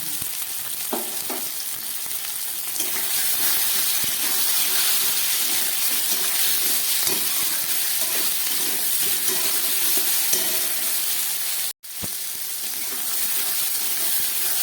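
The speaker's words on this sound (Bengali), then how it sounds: "কাঁচা লঙ্কা, নুন, হলুদ দিয়ে ঝিঙে আর আলুটাকে খুব ভালো করে ভেজে নিলাম" Ridge gourd and potato pieces fry with green chili, salt and turmeric in a pan, giving a loud, continuous close sizzle with occasional stirring scrapes and a brief drop near the end.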